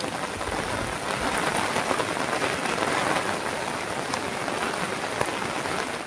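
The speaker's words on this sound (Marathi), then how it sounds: "मित्रांनो तुफान पाऊस चालू झालो आहे" Heavy rain with hail pours steadily onto surfaces, a dense, continuous hiss of drops close by with no break.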